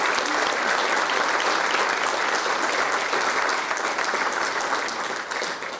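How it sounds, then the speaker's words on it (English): Forum audience gives a sustained round of applause to thank the evening's facilitator, a full, even wash of clapping that holds steady before tapering slightly at the end, with no speech over it. "please join me in a round of applause in thanking Dr. Green for facilitating tonight."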